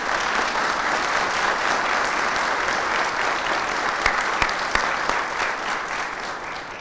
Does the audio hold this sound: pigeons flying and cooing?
no